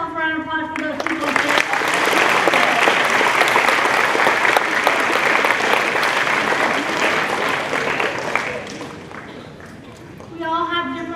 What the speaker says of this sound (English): Can everybody please give yourself a round of applause for those people?